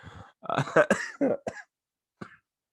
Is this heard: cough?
yes